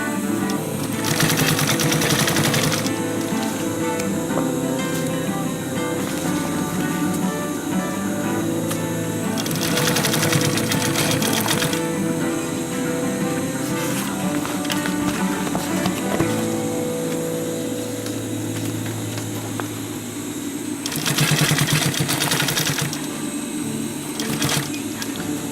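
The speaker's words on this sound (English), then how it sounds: "Keep sewing." A sewing machine stitching a DIY sustainment pouch, running in loud rapid bursts of chattering stitches separated by quieter pauses, close up.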